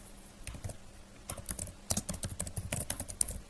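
Fingers type a university name on a computer keyboard, starting with a few scattered taps and then settling into a quick, uneven run of close, crisp keystrokes that grows busier toward the end.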